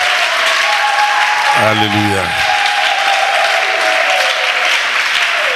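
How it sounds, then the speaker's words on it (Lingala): A church congregation at a Friday service in Poto-Poto, Brazzaville, Congo applauds and cheers for their pastor, a loud, sustained wash of clapping throughout, with one voice calling out briefly over it. "Est-ce que tu peux acclamer pour ton pasteur?"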